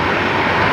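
Aircraft engine at Brisbane Airport, a brief steady broadband jet roar, loud and unbroken, with no voices.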